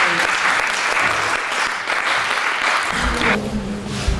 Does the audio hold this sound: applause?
yes